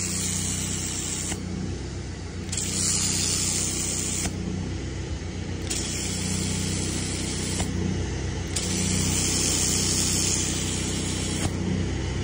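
Pressure washer spraying at 2000 PSI through a red spray gun, a loud sustained hissing jet over a steady engine rumble, with the spray cutting in and out in bursts of a second or two, close by.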